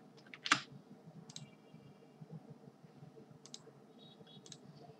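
Sparse, quiet clicks from a computer keyboard while login details are entered on a registration page, with one sharper click near the start over faint background hum.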